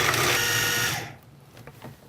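Food processor pulsing pork loin stuffing with pepper: a loud close whirring burst of about a second, then the motor stops and faint clatter follows.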